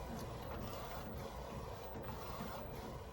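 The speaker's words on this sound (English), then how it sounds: "now that I have my print, it just came out the printer" An Erasmart DTF printer running steadily while printing onto A3 film, a continuous close mechanical whir and hum with faint rhythmic carriage movement and no voices.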